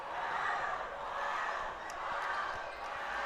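A capacity student crowd roars and cheers at a high school basketball game between Toppenish and Zillah, a steady, swelling wall of noise with a few sharp shouts and whistles.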